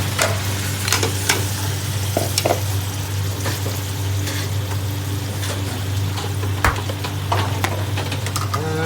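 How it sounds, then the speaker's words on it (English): About 1.5 kilos of mutton sizzles and fries in a pot, a steady loud crackling hiss with occasional stirring scrapes and clanks over about nine seconds. "So the mutton meat, this all goes in."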